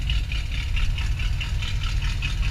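Truck engine idling with its idle screw removed, a steady low rumble holding even and close throughout with no stumbling or dying.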